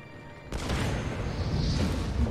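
A sudden loud boom from a bomb in Assassin's Creed Revelations erupts and rolls into a sustained rumbling crash with debris-like noise as a lighthouse collapses, filling the rest of the moment.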